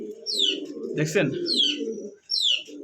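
A pair of red indigo German shield pigeons, cock and hen, give low, continuous rolling coos up close, punctuated by higher chirps, with someone briefly speaking over them.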